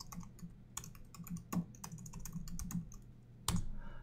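Keywords are typed on a computer keyboard with quick, irregular clicks and a few sharper key strikes, quiet and close with no talking.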